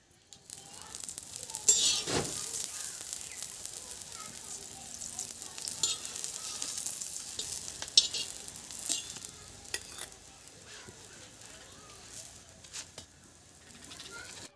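A rice paratha sizzles in oil on a hot tawa with a steady crackling fry, mixed with occasional clinks and stirring noises, close and continuous.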